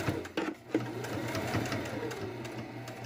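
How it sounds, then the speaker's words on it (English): Sewing machine top stitching along a cable-tie reinforced fabric face mask, a close, steady mechanical whir with rapid regular needle ticks and brief pauses, faint talk in the background. "So we're just sewing right along there."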